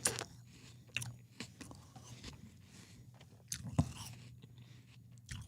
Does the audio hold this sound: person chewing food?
yes